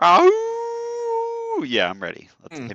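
A person imitates a wolf howl with a steady sustained voiced tone lasting over a second, flanked by brief talk before and after.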